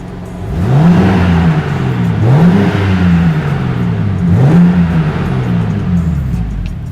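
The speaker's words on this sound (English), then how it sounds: "You can already hear the exhaust change its notes." A 2021 BMW M4 (G82) engine revs up and settles several times in sport mode, its exhaust note rising and falling in loud, close sweeps.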